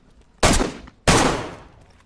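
Two loud, close gunshots in the survival video game DayZ, each a sharp blast with a decaying tail, spaced about half a second apart, with no talk over them.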